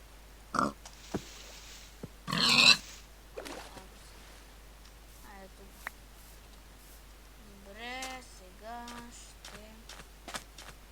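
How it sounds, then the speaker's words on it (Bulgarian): A pig in the Minecraft video game gives a few short, quiet grunts and oinks, scattered between sparse clicks and soft game noises, with a voice speaking briefly. "Тук едно прасе, ще го убия"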